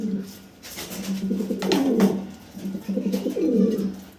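Several pigeons coo in low, throaty rolling calls close by, in two or three swelling phrases over a quiet background.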